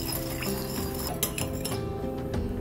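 Spoon stirring sugar into golden mountain sauce in a bowl for pad see ew, light clinks and scrapes of metal against the bowl over a steady background hum.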